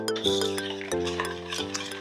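A whisk clinks against the sides of a mug while mixing egg-free chocolate mug cake batter, giving a few bright, ringing taps over a couple of seconds, close and fairly loud.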